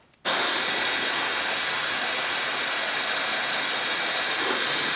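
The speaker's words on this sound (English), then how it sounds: "I'm gonna use my blow dryer to speed this shit up." A blow dryer switches on after a brief quiet moment and then blows with a loud, steady hiss for the rest of the clip.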